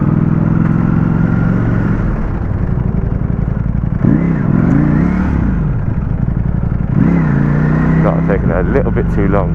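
Ducati Panigale V4S superbikes ride through London city traffic, with a loud, close engine drone that rises and falls as the throttle is blipped. A rider talks over the engine noise throughout.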